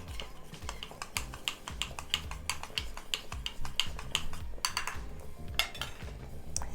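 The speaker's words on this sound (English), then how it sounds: "we are gonna go in with our spoon and basically just make sure there's no lumps in our cornstarch mixture" A spoon stirring a cornstarch slurry in a bowl to work out the lumps, with rapid clinking and scraping taps against the dish in a quick steady rhythm, close up and without talking.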